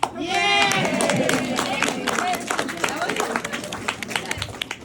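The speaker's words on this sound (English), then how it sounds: "applause for Peter, applause for Lynn, applause for everyone for working with and adapting to the circumstances." A crowd claps and cheers in a burst of applause that gradually thins into scattered claps, with voices mixed in.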